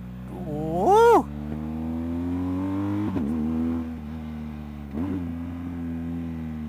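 A BMW GS motorcycle rides a mountain road, its engine humming steadily and close. There is one sharp rev near the start and smaller rises in pitch as the rider shifts.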